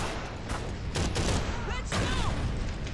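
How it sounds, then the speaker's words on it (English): Gunfire in the video game Call of Duty 3, a few rapid close cracks over a dense, noisy battlefield din, with faint voices mixed in. "Stop shooting at me, man."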